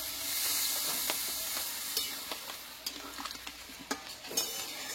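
Water being poured into a pan of spiced papaya curry, bringing a steady sizzling hiss with scattered stirring and scraping clicks from a spoon against the pan.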